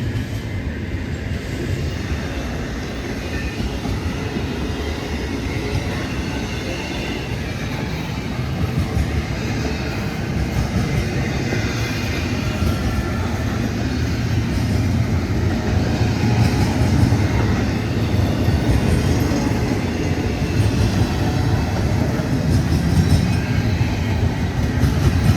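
A CPKC intermodal freight train runs past on Norfolk Southern track through Tuscaloosa, with a continuous heavy rumble, rhythmic wheel clatter and occasional squeal that grow slightly louder over about 25 seconds.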